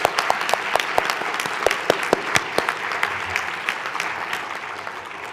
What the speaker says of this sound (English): A big round of applause for these wonderful award recipients.